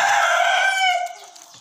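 An Indonesian native village chicken rooster crows once, a loud drawn-out call that rises and then trails off, heard close with no talk over it.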